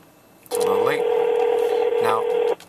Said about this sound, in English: now this is dialing my office